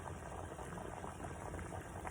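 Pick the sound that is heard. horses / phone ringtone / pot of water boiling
pot of water boiling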